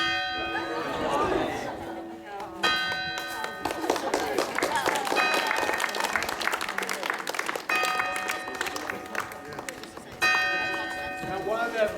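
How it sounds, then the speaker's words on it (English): Clock bell striking twelve at a welcome reception, several clear ringing tones with long decays spaced across the clip, heard over crowd chatter and a brief patch of clapping. "I'll wait until the bell's fully chiming. It's a long one at 12 o'clock."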